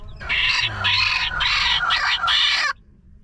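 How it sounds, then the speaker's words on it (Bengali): Native desi chickens crowing and clucking at close range, several loud bursts in a row over about two and a half seconds, with no talk. "দেশি মুরগি।"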